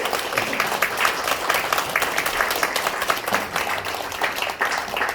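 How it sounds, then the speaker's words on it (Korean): A church congregation claps for a scholarship recipient at a Korean service, even continuous applause of moderate loudness filling the whole stretch without talk. "여러분 박수해 주시기 바랍니다."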